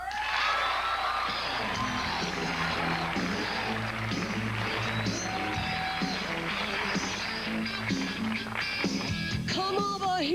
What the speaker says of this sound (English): I want to give her a real Super Dave round of applause